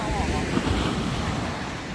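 Surf breaking on Nõva beach in Estonia on New Year's Eve, a steady broadband wash of waves mixed with wind buffeting the microphone, continuous and fairly loud.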